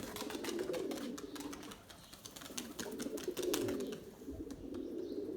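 A flock of Turkish play pigeons makes faint, low cooing and soft flutters, with a scatter of light clicks and wing sounds rising and falling.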